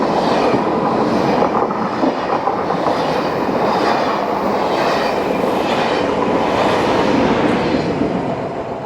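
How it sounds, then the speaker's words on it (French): A TGV high-speed train bound for Paris roars past at a level crossing, loud and close, with continuous rushing wheel and rail noise and faint clatter throughout before easing slightly at the end. "Le TGV pour Paris?"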